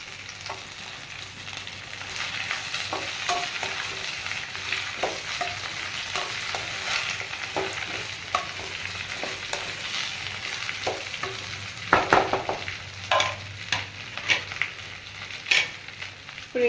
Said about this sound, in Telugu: ఇప్పుడు ఎర్రగడ్డలు వేస్తున్నాను.